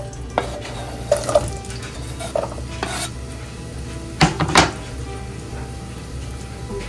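Large pieces of shrimp dropped into hot oil for coconut shrimp, a few sharp sizzling bursts and utensil clinks over a steady low frying hiss, close by with no talking.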